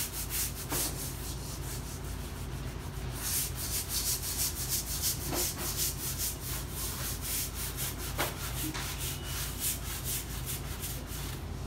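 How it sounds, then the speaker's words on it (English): A deck brush scrubs a supermarket store floor in a steady, continuous back-and-forth rasp, loud and close, with a few faint knocks and no talking. "After scrubbing with deck brush"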